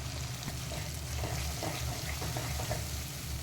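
Spice paste sizzling as it hits hot oil in a pan while cooking spicy bhungla bataka potatoes; a steady, close, dense frying hiss runs throughout with no talking.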